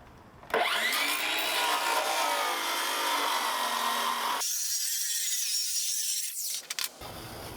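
A power saw cuts through a wooden floor panel for a roof rack, a loud bright whining rasp that starts abruptly, changes tone partway through, then stops after about six seconds.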